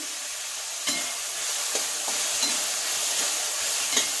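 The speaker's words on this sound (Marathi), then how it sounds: "हिरवी मिरची मी वाटून घेतली, कापून वाटली तरी चालते, मी वाटून घेतली। ती चांगली परतून घेऊ आता।" Ground green chili sautés in a pan, making a continuous close frying hiss with a few sharp clicks of a stirring spoon.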